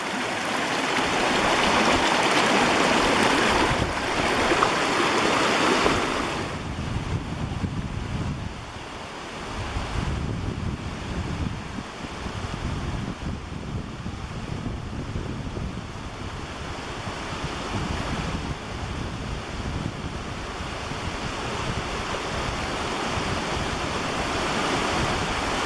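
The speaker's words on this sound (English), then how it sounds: "And yet another creek crossing just before the talus slope here." A mountain creek rushes at a trail crossing below a talus slope on Blanca Peak, a loud continuous broadband roar mixed with wind buffeting the microphone, no voices.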